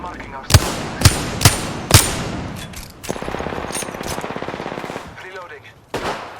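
Rapid automatic gunfire in the battle-royale shooter Apex Legends, a few sharp loud shots followed by a sustained rattling burst and another shot, close and dominant.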